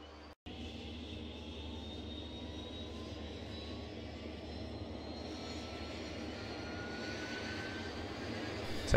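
Dash 8 turboprop engine number one spooling up in a flight simulator, a steady rising whine with a climbing tone over a constant low rumble, fairly loud and alone.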